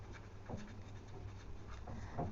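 Faint scratchy strokes of writing on a board during a math class, a few soft scribbles close together and quiet, with no voices.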